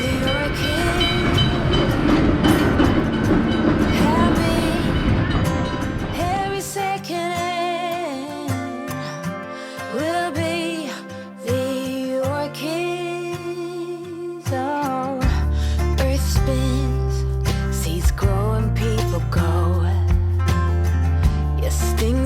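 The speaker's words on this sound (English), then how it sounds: "jump on board one of their many operational trams and take a ride along the 4-kilometre track" A heritage tram rides along a 4-kilometre museum track, its steady rolling rumble and rhythmic wheel clatter carrying on throughout with music playing over it.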